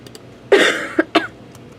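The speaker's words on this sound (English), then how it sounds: "Let's go ahead and cut that coughing out." A few coughs close by: one longer rough cough followed by two short, sharp ones, then quiet.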